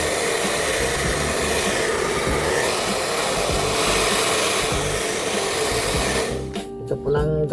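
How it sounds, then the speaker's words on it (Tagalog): A household hair dryer on its cold setting blowing dust off PC parts, a loud steady close whirring rush that cuts off near the end, followed by brief quiet handling noises. "Ito palang gamit natin mga kaabe, air dryer ni Mrs."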